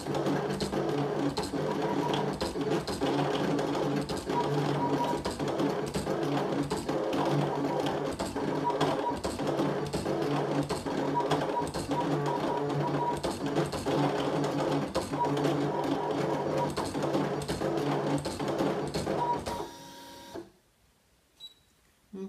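A Brother ScanNCut cutting machine drawing on fabric for a card runs in a steady whirring, buzzing mechanical drone with rapid stepping pulses for about twenty seconds, then stops abruptly, leaving near silence with a few faint clicks.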